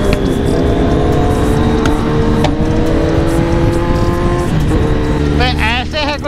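A sport motorcycle, such as a BMW S1000RR with an aftermarket loud exhaust, accelerates hard in traffic with a continuous, loud, rising engine roar that holds throughout, and a rider talks briefly near the end.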